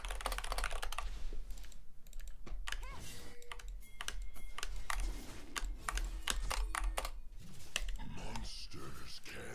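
Computer keyboard typing during a League of Legends game: a rapid, irregular burst of close key clicks under soft muttered speech.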